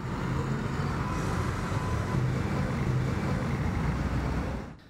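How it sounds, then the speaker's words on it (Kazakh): Steady broadband traffic rumble of old Zhiguli (VAZ) cars flowing along a street in Turkistan, a constant moderate wash of engines and tyres that fades out at the end. "Түркістанда жигулилердің көптігі сонша шаһардың кез келген көшесінде ағылып жатыр."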